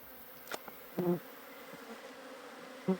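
Bees buzz faintly around top bar beehives in the bush at sunset, low-key insect drone with a few brief closer buzzes passing by.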